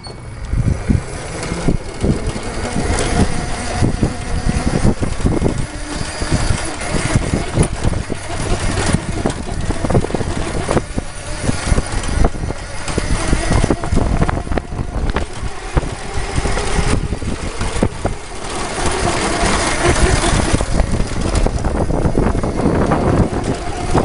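An electric racing go kart prototype running on a 48V lithium battery pack, driving along in a continuous whirring motor drone with road and wind noise throughout, close by.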